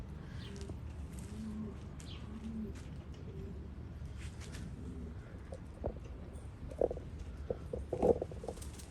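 Damascene pigeons coo in low, soft, rolling calls at close range, with faint background rustle and a few louder coos toward the end.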